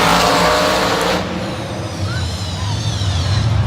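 Monster Jam monster trucks Max D and Camden Murphy race in a stadium, engines roaring loudly and steadily, the tone shifting partway through as the trucks power along, with crowd noise and announcer-like voices mixed in.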